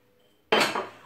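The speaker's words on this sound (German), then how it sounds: "Bin auch noch nicht ganz fertig mit meinem Geschirr, aber fast." Dishes clatter in a kitchen sink as pots, pans and cutlery knock together, starting abruptly after near silence with loud clinks that keep ringing on.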